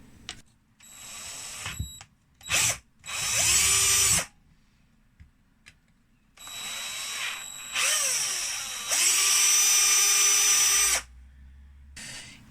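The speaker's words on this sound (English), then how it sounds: "maybe I should just drill up the hole." A power drill bores out a hole for a C64 cartridge in several loud whining bursts close by, the motor spinning up and down with pauses and small clicks between runs.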